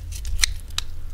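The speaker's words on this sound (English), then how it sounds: "you're gonna take your scissors and just loosen up the meat and fat" Kitchen scissors snip meat and fat away from a chicken wing bone, giving two or three sharp, close clicks in quick succession over a low background hum.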